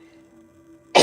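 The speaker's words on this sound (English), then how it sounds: "I didn't start coughing until I came on here." A single sharp cough bursts out at the very end after a second of near silence with only a low electrical hum, close to the microphone.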